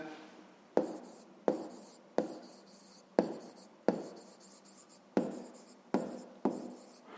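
A pen writes an answer on paper for a fifth-grade maths exercise, giving repeated sharp scratchy strokes in quick bursts, about nine in a row, close and fairly quiet with no voices.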